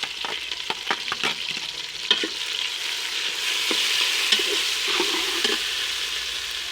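Tomatoes, green chillies and garlic are tipped into onions frying in a pan for a chana dal dish, giving a run of sharp clatters and spoon knocks before settling into a steady, rising sizzle, with no talking.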